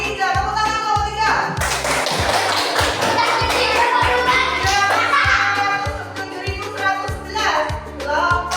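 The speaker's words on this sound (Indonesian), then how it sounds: "tepuk tangan kelompok 3" A classroom group claps together in a rhythmic pattern over regular low thumps, with a burst of louder, denser applause in the middle. Children's voices can be heard in the background.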